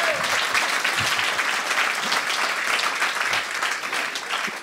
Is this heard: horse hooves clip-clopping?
no